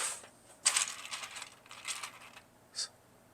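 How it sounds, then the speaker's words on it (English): Snips of a cutter trimming the ends off quarter-inch drip irrigation tubing, a few crisp clicks spread across a quiet moment with no talk. "Let's just cut those ends off, make them a little neater"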